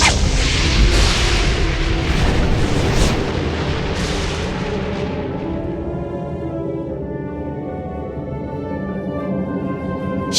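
A magical burst of green fire as the evil fairy Maleficent appears, a loud roaring whoosh with booming rumble that swells at once and then slowly fades into a lingering low tone, with no talking.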